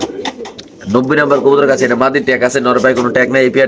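Caged racer pigeons at a Bangladeshi pigeon market coo in soft rolling phrases, close by, mixed with people talking loudly over them.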